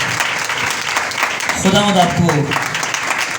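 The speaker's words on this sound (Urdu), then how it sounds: "آئے زوردار تالی بجائیں خدا کے کلام کے لیے" Church congregation at a Good Friday meeting clapping loudly, a steady dense wash of applause with someone speaking over it.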